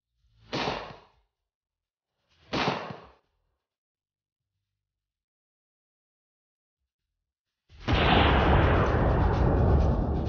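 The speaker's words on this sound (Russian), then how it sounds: "Давайте посмотрим, как сработает осколочная граната." A GP-25 underbarrel fragmentation grenade detonates in a test setup after two short separate bursts, ending in a sustained loud roaring blast and rumble that fills the last seconds.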